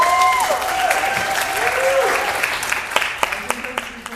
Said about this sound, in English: One more round of applause for Plexiglass.